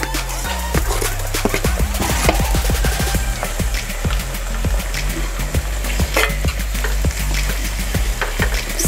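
Chopped tomatoes go into onions and green chillies frying in a pan for sev tameta nu shaak, a loud, steady sizzle punctuated by repeated sharp clicks of a spoon against the pan.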